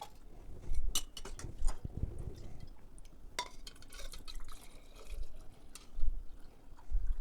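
Beef bone broth, rendered three times, is poured into pint jars, making scattered splashes, trickles and drips at close range, broken by occasional clinks and short quiet gaps.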